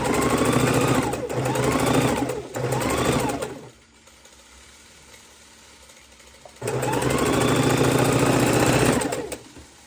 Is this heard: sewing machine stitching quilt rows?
yes